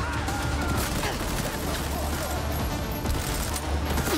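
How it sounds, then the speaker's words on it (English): Dense, unbroken automatic gunfire pounds away in a video game battle, loud and close, with a voice talking faintly underneath. "Gun violence."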